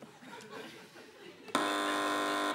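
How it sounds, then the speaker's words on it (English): A game show buzzer sounds once, a loud flat electronic tone that holds steady for about a second after quiet murmuring and light laughter from a studio audience. "Fingers back on buzzers."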